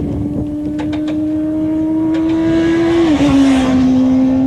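A motorcycle accelerates out of a corner, its engine note a loud, steady high drone that rises slightly in pitch before dipping briefly as it shifts, close and unbroken.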